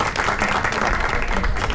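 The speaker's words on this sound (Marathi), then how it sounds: "सगळ्यांनी टाळ्या" An audience at a felicitation ceremony applauds, a dense, steady wash of many hands clapping at close range, with faint voices underneath.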